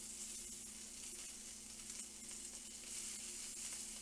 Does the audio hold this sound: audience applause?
no